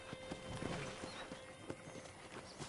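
Horse hooves clip-clop steadily in the Red Dead Redemption video game, soft and somewhat distant beneath a constant outdoor ambience.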